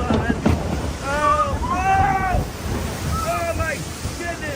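A Splash Mountain log flume boat rushing through water, with loud wind buffeting and churning splashes close by, while people talk and exclaim over it.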